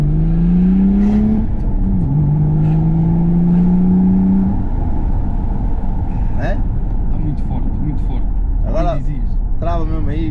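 Tuned BMW 530d diesel with a stage 2 hardcut map, revving and accelerating loudly nearby, a steady engine drone with rising pitch sweeps and hard crackling cuts, while people talk over it.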